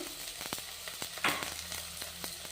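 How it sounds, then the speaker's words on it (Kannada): Urad dal and chana dal fry in ghee, a quiet, close sizzle broken by light spoon taps and one brief louder stir. "ಈ ತುಪ್ಪದಾಗೆ ಫ್ರೈ ಮಾಡ್ಕೊತೀನಿ ನೋಡಿರಿ ಉದ್ದಿನಬೇಳೆ ಉದ್ದಿನಬೇಳೆ ಕಡಲೆಬೇಳೆ ಎರಡು ಫ್ರೈ ಆಗ್ತಾ ಐದಿನ"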